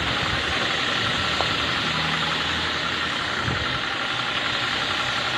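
A motorcycle engine idles nearby, a loud, continuous, even mechanical hum with a slight knocking texture and no change in pace.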